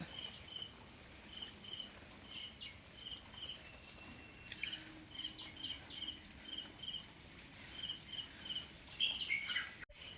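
Sparrows chirp in quick, repeated high notes over a constant insect buzz in the morning, moderately far away, with occasional patters and no talking.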